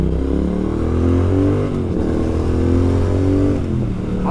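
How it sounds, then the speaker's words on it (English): A Triumph retro motorcycle engine with its exhaust pipes revving close by, a deep throbbing exhaust note that rises and falls in pitch through a couple of throttle blips, loud and steady throughout. "It's the sound of that engine with those pipes."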